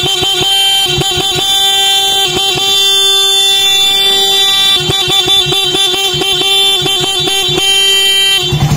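A Raider R150 motorcycle's stock horn honks repeatedly at close range, a loud, bright, steady tone broken into short and longer blasts.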